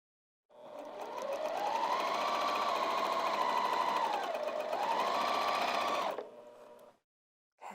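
A sewing machine stitches lounge pants in one steady, fast run lasting several seconds, its motor hum dipping briefly mid-seam before picking up again and stopping abruptly, close and alone.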